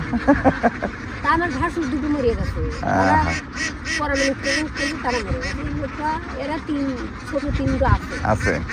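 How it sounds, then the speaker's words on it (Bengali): A flock of ducks is driven along outdoors at Chalan Beel, with many overlapping quacks and honks close by, while people talk over the birds. "ওদিকে দলছুট আরেকটি হাঁসের দলকে তাড়িয়ে আনা হচ্ছে"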